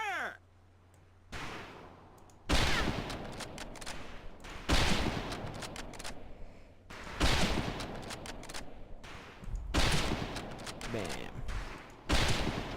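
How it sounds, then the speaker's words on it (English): A volley of rifle fire on a shooting range in the World War II game Medal of Honor Pacific Assault, with repeated loud cracks in clusters spread over several seconds and some background voices. "Ready on the right. Ready on the left. Stand by, targets. Fire!"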